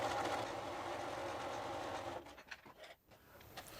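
A sewing machine stitching a continuous lap placket seam at a 1/8 inch allowance, running steadily for about two seconds, then stopping for a pivot, followed by brief uneven whirs as stitching resumes the other way.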